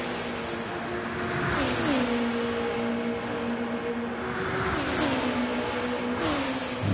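Pagani GT1 race car engine in a racing video game on the Nordschleife, revving and shifting repeatedly at a moderate distance, with rising engine pitch cut by gear changes.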